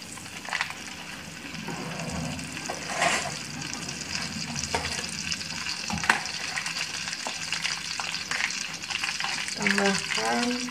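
Onions and spices frying in butter for nasi mandhi sizzle softly in a pan, with occasional stirring clatter and a brief splash of running water near the end.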